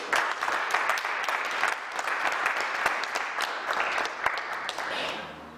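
A crowd at a festive gathering of friends, held on the country's 56th independence anniversary, claps steadily and enthusiastically for several seconds, a dense patter that eases off slightly at the end.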